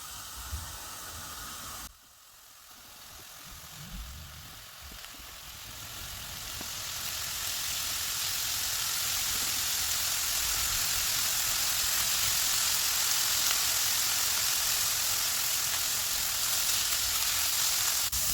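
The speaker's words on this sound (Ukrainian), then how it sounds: "Обсмажую овочі на невеликій кількості олії до м'якості." Steady sizzling of vegetables frying in a little oil, a broad hiss that swells after a brief dip and holds loud and continuous.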